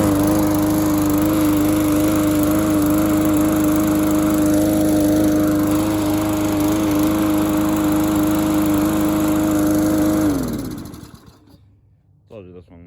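A Lawn-Boy lawn mower engine, easy to start even when cold, runs at a loud, steady close-up drone for about ten seconds, then cuts off and winds down to near silence.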